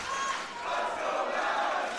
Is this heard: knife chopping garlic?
no